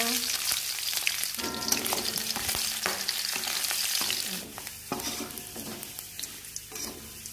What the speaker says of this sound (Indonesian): ini kita tumis dulu ya gaji-gajinya atau lemak-lemaknya dari daging tadi ya